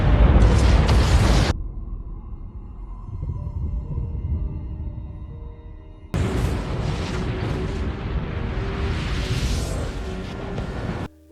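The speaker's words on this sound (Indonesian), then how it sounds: "tanah mulai bergerak ke atas dan meledak, memuntahkan bebatuan yang terbakar" Loud rumbling eruption and explosions as the ground bursts upward at Yellowstone in the disaster film 2012, with bursts of heavy roaring blasts at the start and end around a quieter sustained rumble.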